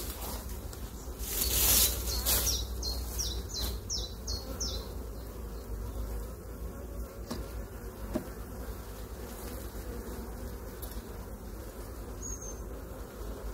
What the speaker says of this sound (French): on sort toutes les abeilles de la poche